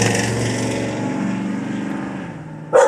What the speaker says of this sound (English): as we just heard a motorcycle that my dog hates and will bark at